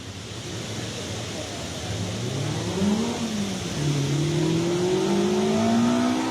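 A race car climbing the hill at the 46th Pourville-sur-Mer hill climb, its engine revving up through rising gear pulls as it nears, loud over the open-air background, with a voice faintly underneath.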